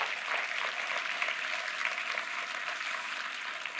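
A church congregation applauding in praise, a dense, steady wash of many hands clapping together, even and sustained without pauses.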